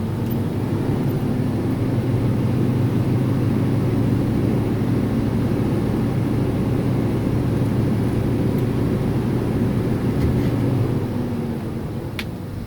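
Gold truck engine idling and pulling forward during an offset backing exercise, a steady low drone at even loudness throughout, with no talk over it.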